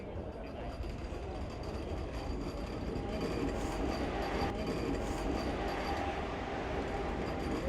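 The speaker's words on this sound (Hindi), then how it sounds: "अराइवल हो चुका है वंदे भारत ट्रेन का, जिसमें आज हमारी जर्नी रहने वाली है फ्रॉम श्रीनगर टू कटरा" A Vande Bharat Express train arrives at Srinagar station platform with a steady rumble and rolling rail noise throughout, moderately distant, under faint voices.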